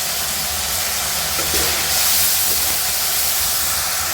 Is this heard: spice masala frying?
yes